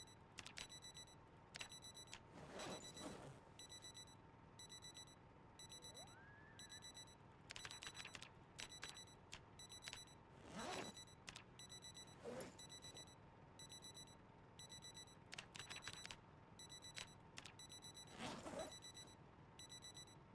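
Digital wristwatch alarms in the survival video game Project Zomboid, repeated bursts of shrill electronic beeping at irregular intervals over a faint steady hum, with no voices.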